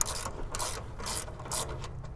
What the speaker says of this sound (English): we're loosening these. So we want to go to the left with each of the nut and the bolt.